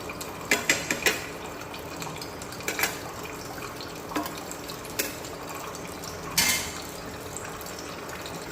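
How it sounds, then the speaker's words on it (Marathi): Water is poured into a bowl with leftover black masala for a ridge gourd curry, making faint splashes and drips with a few sharper taps against the bowl over a quiet background. "मसाल्याच्या बाउलमध्येच मी पाणी घेतलेलं आहे"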